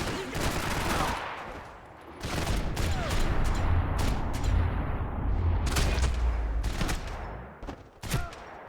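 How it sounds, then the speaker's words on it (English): Gunfire in the Max Payne 3 video game: dense bursts of rapid shots and sharp individual cracks over a rumbling low background, loud and close, with no voices. "Gunfire over Hoboken."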